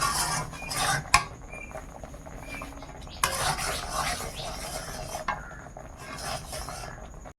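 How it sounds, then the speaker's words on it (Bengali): Coconut and milk powder mixture for narkel naru being stirred in a pan over low heat: continuous scraping and rasping of the spoon against the pan, with occasional sharp metal clinks and a soft sizzle underneath. "গুঁড়ো দুধ দিয়ে আর ভালো করে নাড়তে হবে।"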